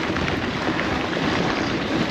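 Wind blowing across a hilltop cycling course at Capoliveri, a loud, steady roaring rush that buffets the microphone throughout, with no other sounds standing out.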